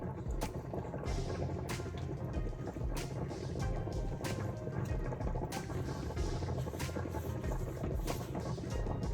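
Milk is poured in small amounts into dumpling dough and mixed by hand, a steady close wash of liquid and mixing noise with repeated soft splashes and scrapes, no voices.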